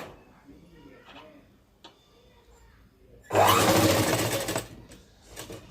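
A sewing machine stitches fabric for a long frock in one loud, fast whirring burst of about a second, after quieter moments with a faint voice in the background.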